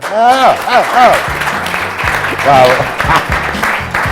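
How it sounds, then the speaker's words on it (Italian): An audience breaks into applause, a crowd of clapping hands that builds under and after a speaking voice, with talk continuing over the clatter. "Ti faccio i complimenti e un applauso."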